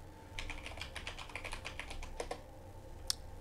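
Fast typing on a computer keyboard while entering a command at a terminal, a quick run of light, close key clicks followed by a couple of isolated taps and one sharper keystroke near the end.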